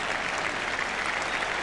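Steady, full applause from a Yorkshire cricket crowd at Headingley in 1977, celebrating Geoffrey Boycott's Test century against Australia, a continuous dense clatter of clapping from a large stadium audience.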